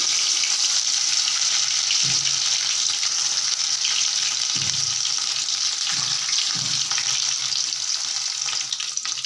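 Onion paste fries in oil in a pan for a fish curry, hissing and sizzling loudly and constantly. Four or five scraping stirs of a spoon rise above the sizzle at irregular intervals.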